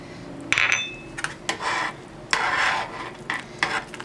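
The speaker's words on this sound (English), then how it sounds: "Just stir it up." Spoon stirring fish broth with turmeric and spices in a metal pot, several distinct scraping and clinking strokes against the sides in irregular bursts, close and clear with no talking.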